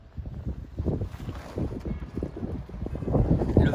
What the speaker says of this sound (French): Le vent se lève.